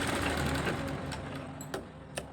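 An overlock sewing machine stitches the lining of a blouse with a close, fast mechanical whirr that slows and stops near the end, leaving a few faint clicks and no speech.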